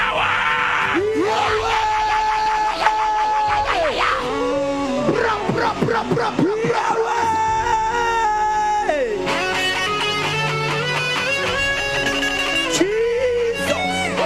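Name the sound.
church congregation shouting with raised hands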